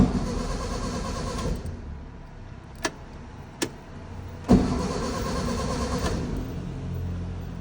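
A 1963 classic Volkswagen Beetle engine cranks without catching: a long grinding crank, two short clicks, then a second longer crank, close and loud, with quiet gaps between.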